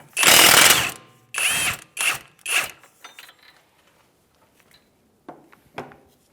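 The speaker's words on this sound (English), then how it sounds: "we're going to move over to the impact and a 32 millimeter, take off the axle nut" An impact wrench with a 32 mm socket hammers loose the front axle nut on a 2015-2019 Hyundai Sonata in four loud, close rattling bursts, followed by quieter ratcheting clicks and handling noises.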